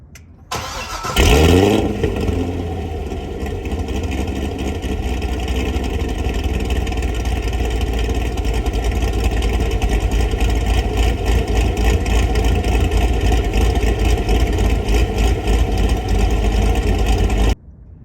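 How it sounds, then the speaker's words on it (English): A Corvette C6 with an aftermarket cam fires up hot through a Corsa exhaust with the cutouts closed, then settles into a loud, steady, lopey idle recorded up close and without voices. "you can hear the cam through the Corsa with the cutouts closed"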